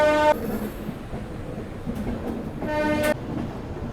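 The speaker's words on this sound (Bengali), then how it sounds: "এই মুহূর্তে আমার ট্রেন ছেড়ে দিল Shri Jagannath express Shalimar railway station থেকে।" Sri Jagannath Express (train 18409) pulling out of Shalimar railway station, a horn blast at the start and another near the end over a steady rolling rumble of the carriages.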